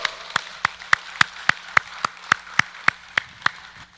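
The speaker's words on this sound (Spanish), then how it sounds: "Dale un aplauso al Señor." Sparse, evenly spaced claps ring out about a dozen times at a steady beat in a church congregation, crisp and fairly close, with no voices over them.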